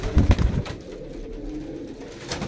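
Pigeons at a Faisalabad loft give low, muffled cooing notes, a few close bursts early on and then a softer continuous murmur.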